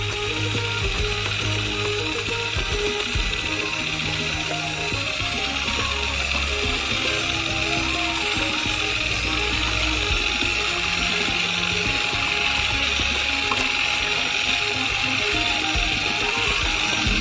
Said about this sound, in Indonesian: sambil mencampurnya dengan mixer.